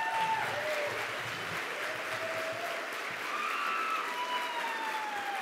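Sustained applause from an audience at a graduation ceremony, a dense, even wash of clapping filling the room for several seconds, with faint whistles and cheers rising over it.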